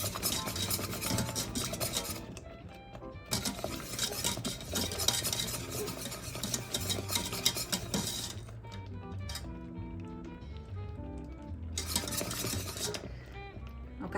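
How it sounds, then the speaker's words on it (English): Thick candy mixture stirred in a pot with a metal utensil, a busy run of scraping, clinking strokes broken by brief quieter pauses, close and fairly soft, with no voices. "And you definitely want to continue to stir, if not it will scorch on you."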